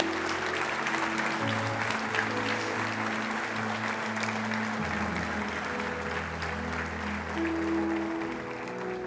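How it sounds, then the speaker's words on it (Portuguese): A church congregation applauds in a steady, continuous wash of clapping over sustained organ or keyboard chords. "Você pode dar uma salva de palmas ao Senhor."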